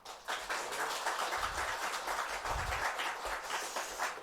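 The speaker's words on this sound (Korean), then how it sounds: "저놈한테 좀 박수 좀 쳐주실래요?" A congregation at a Friday evening church prayer meeting gives sustained applause, many hands clapping in a dense, even wash at moderate distance, fairly soft overall with a few heavier thuds underneath.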